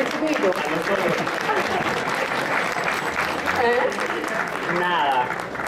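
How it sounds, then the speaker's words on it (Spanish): Stage audience claps in sustained applause at a live music show, with voices talking and calling out over the clapping. "Y un aplauso es lo que realmente"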